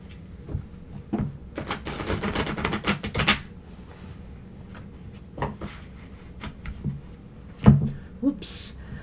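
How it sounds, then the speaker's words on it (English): Tarot cards being shuffled by hand, a burst of rapid papery riffling and tapping followed by scattered soft card slaps and a sharper clack near the end, fairly quiet and close. "One more shuffle."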